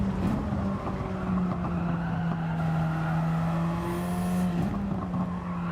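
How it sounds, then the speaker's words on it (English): A car in a no-assist league racing video game drones steadily with layered engine tones, and a thin, high tyre squeal rises briefly near the end as a car spins, all close and continuous. "Just heard the tyre squeals"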